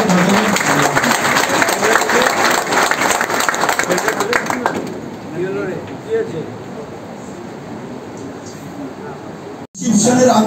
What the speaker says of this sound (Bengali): জোরে হাততালি তো বাজাবেন